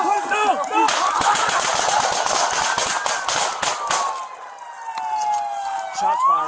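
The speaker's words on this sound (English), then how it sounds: "Shots fired." A rapid string of loud, close gunshots rings out during a police motorcycle chase, with a wailing siren sweeping underneath that carries on after the shooting stops and shouting voices heard early.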